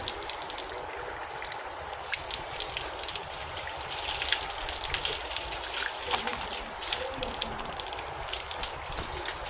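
Water pours and splashes steadily as an arm is washed during wudu, a continuous close hiss of running water with patters and no pauses over nearly ten seconds.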